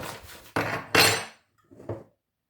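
Flour gets stirred into a cheese sauce in a pan, making several loud scraping, clattering strokes of a utensil against the pan with short pauses between them.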